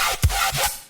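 A metallic riddim-style dubstep bass patch from the Serum synth, played with its sub oscillator switched off. Two short, gritty, loud hits land within under a second, with no voice.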